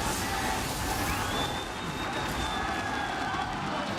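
Crowd cheering in an esports arena after a League of Legends Mid-Season Invitational play-in game, a sustained roar of many voices filling the space evenly, with faint tonal sounds drifting above it.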